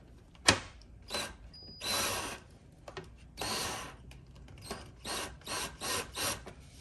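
A Ryobi power drill backs screws out of a shelf being dismantled, with several short whirring bursts of varying length separated by pauses and occasional small clicks, all close by.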